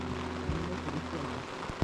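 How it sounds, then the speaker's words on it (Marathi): Steady rain falls during a mountaineering trip to Shoshala Peak near Rakcham, a dense continuous hiss with a low droning hum underneath and faint murmuring voices. "अरे पाऊस पडतोय हा."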